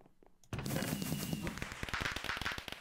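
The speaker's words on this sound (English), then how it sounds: "21 fireworks." Fireworks go off in the Minecraft Mineplex game, a dense, loud volley of rapid crackling bangs bursting in after a brief quiet and continuing in quick irregular pops.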